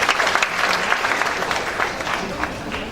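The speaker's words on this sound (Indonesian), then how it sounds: "Kita tepuk tangan dulu tim musik kita." A church congregation applauds its music team after a service prayer, a dense steady wash of clapping filling the room for the whole stretch with no one speaking over it.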